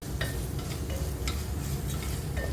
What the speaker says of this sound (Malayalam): തക്കാളി ചേർത്തിട്ടൊന്ന് വഴറ്റാം